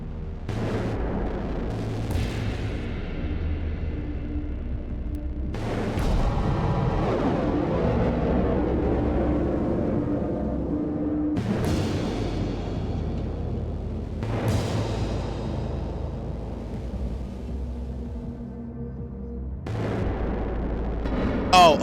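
Gunshots in the video game Children of the Sun: a handful of heavy, booming shots, about five spread across the stretch, each with a sharp crack and a long rumbling decay, over steady low game ambience.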